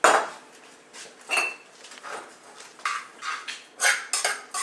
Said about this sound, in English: Sauteing our onions right now.